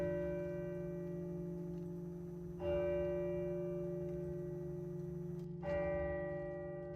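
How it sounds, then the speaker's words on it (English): Church bell tolling in a played recording, two deep resonant strikes a few seconds apart, each ringing out and sustaining with a long humming decay, clear and fairly loud. "Creepy bell."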